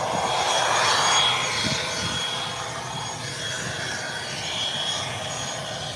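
Aircraft pushing back at an airport, with a steady, fairly distant jet engine roar that swells slightly at first and then holds even throughout.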